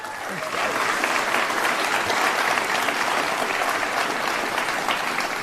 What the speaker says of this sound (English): How about a round of applause for all of them, by the way?